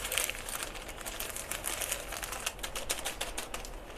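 Plastic bag holding tulip bulbs dusted with fungicide powder being shaken, a continuous rapid crinkling and rustling at close range with no voices.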